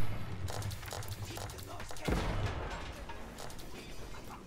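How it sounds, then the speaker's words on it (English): Cannon fire from English and French armies in a medieval real-time strategy battle, with repeated booming artillery impacts and scattered gunfire against a wall, dense and continuous, with talk over it. "Cannons are working on that wall."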